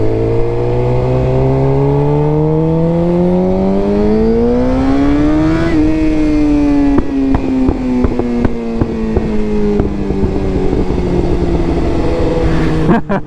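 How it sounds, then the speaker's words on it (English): A Suzuki GSX-R motorcycle engine rises steadily in pitch under throttle, then eases and holds a lower drone with sharp ticks and rattles, loud and close throughout without speech. "I blip the throttle"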